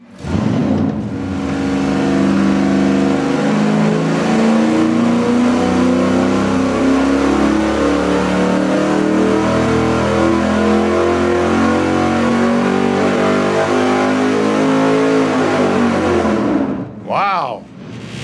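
High-performance V8 engine with a Pro Products Power Plus intake revving hard on a dyno, a long loud sustained roar climbing through the revs before cutting off abruptly, followed by a short rev blip.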